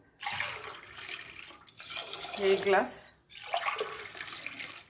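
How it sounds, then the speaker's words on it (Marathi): Water pours in a few short bursts, splashing into a pot of rice, with a person speaking quietly between and over the pours. "आता तांदळामध्ये आपण पाणी टाकून घेऊया"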